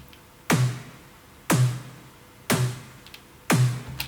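EDM snare drum with external EQ effects, four punchy hits evenly spaced about a second apart, each a sharp bright crack with a thick low body and a short decaying tail.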